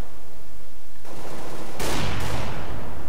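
Gunfire in Counter-Strike: Global Offensive, a quiet stretch followed by a sudden loud burst of shots that rings out and fades, with a second harsh blast near the end; no one speaks.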